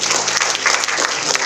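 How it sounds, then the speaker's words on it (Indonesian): Audience applause at a public talk on fighting hoaxes: dense, loud, steady clapping from a crowd, filling the whole brief moment without pause. "tepuk tangan dulu."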